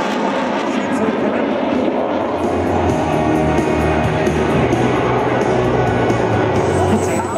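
A Saab 105Ö jet flies display manoeuvres at an airshow, its engine roar loud and steady throughout, with a crowd and a commentator's voice mixed underneath.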